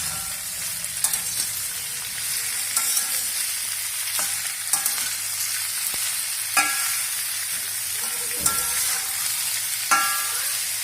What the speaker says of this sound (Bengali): এটাকে গ্যাসের ফ্লেমটাকে একটু বাড়িয়ে দিয়ে এটাকে ভালো করে ভেজে নেব